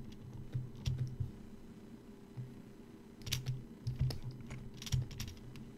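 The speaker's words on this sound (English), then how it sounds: "Doing a little too many keystrokes at once there." Rapid bursts of typing on a computer keyboard during digital sculpting, quick clusters of light key clicks separated by pauses, fairly faint over a low room hum.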